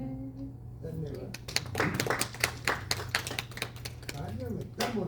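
Audience at a Hindi devotional gathering claps in a dense, steady patter that builds from about a second in and rolls on loudly to the end, with a sustained low hum and some voice beneath.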